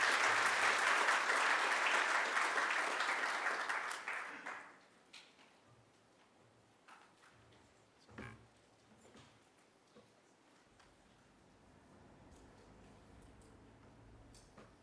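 Audience applause welcoming speaker Karl Faase at a church talk: a loud, sustained clapping crowd for about four seconds that fades out, leaving quiet room noise with scattered faint knocks and shuffles.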